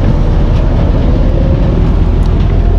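Rolling rumble of a train ride in Bangkok, a steady, loud low-frequency drone of wheels and carriage noise continuing without a break, with no voices heard.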